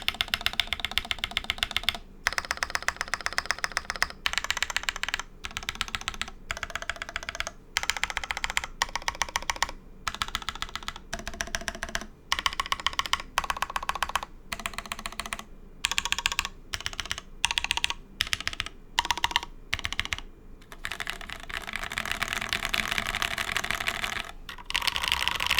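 Steady clattery typing on a Type-K prototype mechanical keyboard fitted with PBT keycaps, bursts of close keystrokes broken by short pauses, no voices.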